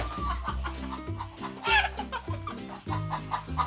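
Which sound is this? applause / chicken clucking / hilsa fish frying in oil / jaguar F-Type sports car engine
chicken clucking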